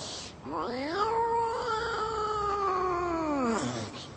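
A human voice imitates a cat's drawn-out, wavering yowl as another cat comes near, one continuous rising-and-falling cry lasting about three seconds, close and loud.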